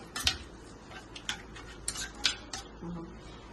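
A spoon taps and scrapes in a pan as chili powder, turmeric and salt are mixed and mashed into oil, giving several short, close clinks at an uneven rhythm over soft stirring.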